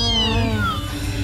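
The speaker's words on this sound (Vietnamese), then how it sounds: "Dì ơi, tiếng gì vậy dì? Mấy con mèo" Cats on a roof at night give a loud, drawn-out yowling meow close by, a single wavering cry that slides downward and fades, with no talk over it.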